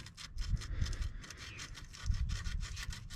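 Sandpaper rubs back and forth on the ignition points of a 1931 Ford Model AA truck, giving close, rhythmic scratchy strokes in quick repeated bursts.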